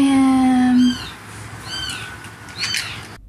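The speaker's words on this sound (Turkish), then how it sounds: "Vatandaşlar güneş enerjisinin su kazanı içinde yavru kedi sesi geldiğini fark etti." Kittens meow repeatedly from inside an empty solar water heater tank on a rooftop, their short rising cries sounding hollow and a little distant over a low background hum.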